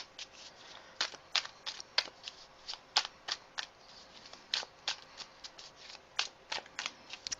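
Tarot cards being shuffled, a quick series of crisp riffling snaps and slaps in an irregular rhythm, close and fairly quiet with no talking.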